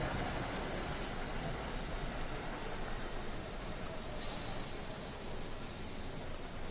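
A train braking to a stop on the Boston Sprinter route in Train Sim World 2 comes across as a steady broadband hiss and rumble of wheels and brakes, continuous and even throughout.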